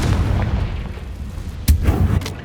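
A Confringo blasting spell in Hogwarts Legacy bursts as a deep booming explosion, one sharp hit near the middle that rises out of a low rumbling background and decays over a second, with no talk.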